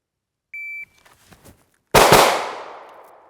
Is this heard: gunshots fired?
yes